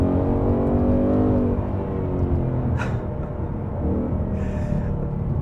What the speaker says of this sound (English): so the exhaust isn't even in its loudest setting. So what you're hearing isn't as loud as it goes.